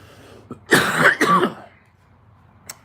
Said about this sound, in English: I'm just gonna cough